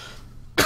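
A single short, sharp cough from someone with a lingering cold, close to the microphone after a brief quiet moment.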